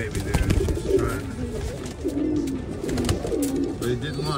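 Pigeons or doves at a nest with fledglings, giving soft repeated coos close by over a constant rustle of wings and movement.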